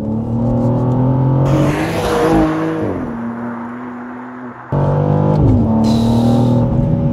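A BMW M2's S58 six-cylinder engine accelerating hard with the rear wheels driving, loud and close, its harmonic note climbing, dropping at a gear change, then pulling strongly again.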